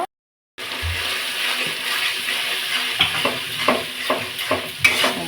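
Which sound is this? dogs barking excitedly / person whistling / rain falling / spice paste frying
spice paste frying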